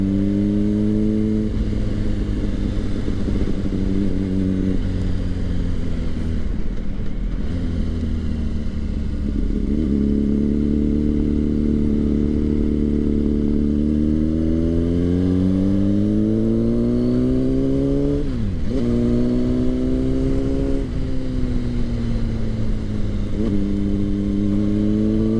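A motorcycle engine running steadily while riding along village roads, loud and close, its pitch rising and falling with throttle and gear changes over about 25 seconds.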